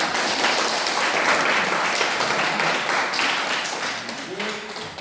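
A classroom of students applauds a group's physics presentation on spring extension, the clapping dense and steady for several seconds before thinning slightly, with faint voices mixed in near the end.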